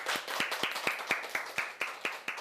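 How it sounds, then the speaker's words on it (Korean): Lecture audience clapping in a steady, evenly spaced rhythm, with crisp, fairly close claps repeating about four times per second and no talk over them. "박수 한번 주시죠."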